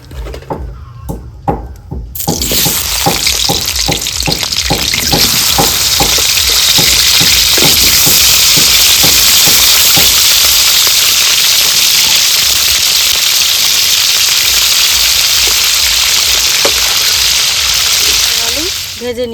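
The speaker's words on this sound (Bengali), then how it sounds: "হেঁচড় আর আলুটাকে ভেজে নিব ভালোভাবে।" Jackfruit and potato pieces fry in hot oil in a wok, starting with a few sharp clatters and splashes as they drop in, then settling into a loud, steady, close sizzle that runs on without a break.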